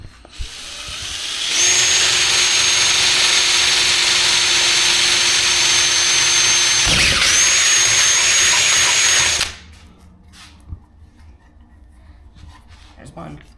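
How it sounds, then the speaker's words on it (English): A power drill bores holes in wood, running as one steady high whine for about eight seconds with a brief dip midway, then stopping abruptly to quiet handling noises. "Time to drill some holes now."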